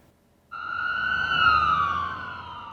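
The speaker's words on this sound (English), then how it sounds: "Sirens," Emergency vehicle siren on Millwood Avenue, wailing loud and close after a brief quiet start, its pitch gliding steadily over a few seconds with traffic rumble underneath.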